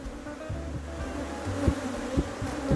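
Africanized honey bees in Trinidad buzz steadily around an open hive heavy with fresh comb, a dense, continuous drone up close with a few louder passes.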